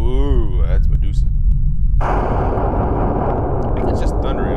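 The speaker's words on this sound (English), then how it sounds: "I think it's just thundering outside." Thunder from a stormy night in the horror video game Midnight Library: a loud, continuous deep rumble with crackling bursts that swells midway. A voice-like tone is briefly heard at the very start.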